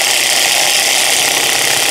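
Kyocera cordless impact driver running on speed setting 1 while driving short screws, a loud, steady, close whirring buzz with no breaks.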